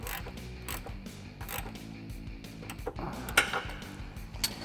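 A ratchet wrench with a 16mm socket tightens bolts on rocker guard brackets of a 2021-2023 Ford Bronco, giving steady mechanical clicking with a few sharper metallic clanks near the end.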